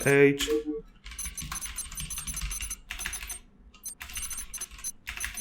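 Keys clatter on a new computer keyboard in quick, uneven bursts of typing with short pauses, fairly close and moderately quiet, with a brief voice at the start.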